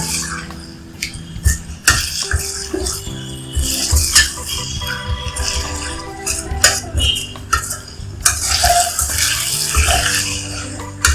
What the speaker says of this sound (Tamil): இது நல்லா வதக்கணும் இது ஒரு பத்து நிமிஷம் நீங்கள் கண்டினியூவாக வதக்கினே தான் இருக்கணும்